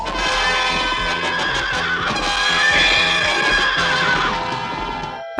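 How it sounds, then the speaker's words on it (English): A cartoon horse neighing loudly over eerie orchestral music as the Headless Horseman appears in a Halloween Scooby-Doo episode, one long whinny peaking midway before cutting off. "listen to the combination of the music and the horse"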